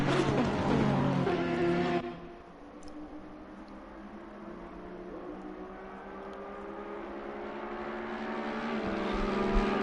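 GT3 racing cars, including Ferrari, Audi and Mercedes entries, cross the start-finish line at Oulton Park: a loud, close engine roar for about two seconds, then a steadier droning engine note as the cars pull away.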